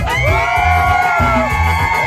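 A crowd at a Purépecha baptism celebration in Ontario, California yells and whoops loudly, with sustained shouted cries rising over a rhythmic pirekua musical backing.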